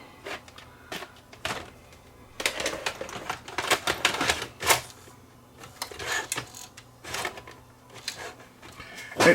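A cassette tape player fails to accept a tape, giving off irregular mechanical clicks, clunks and rattling bursts that come and go at close range.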